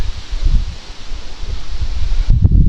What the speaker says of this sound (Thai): ลมท่าจะแรงค่ะ